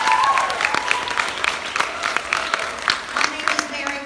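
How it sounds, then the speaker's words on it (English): An audience in a memorial auditorium at a girls' state opening ceremony gives sustained applause with distinct individual claps and a few voices mixed in. "Another round of applause for Francis."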